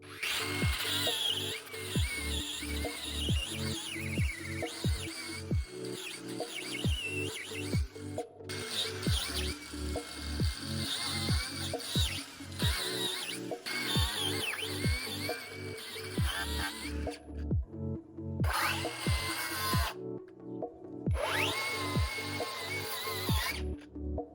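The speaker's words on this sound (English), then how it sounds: "I preferred to cut the old tire using an angle grinder because it was difficult to remove." An angle grinder cuts through an old front tire on a Vespa ET4 scooter in repeated short, whining bursts with a steady rhythm, close and fairly loud.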